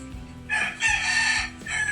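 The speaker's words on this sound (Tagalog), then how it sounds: "Aba, kahit dito mayroong manok din." A rooster crows once, a loud drawn-out call that trails into a second shorter burst, with faint background noise underneath.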